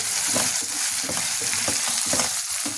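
Drumstick pods fry in oil in a pan for a mixed-vegetable pulusu, giving a close, steady sizzle that bursts in a regular rhythm as they are stirred.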